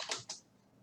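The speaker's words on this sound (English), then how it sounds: "let's type it out so it's clear" Two quick clicks of keys typed on a computer keyboard, close and quiet, followed by faint room hush.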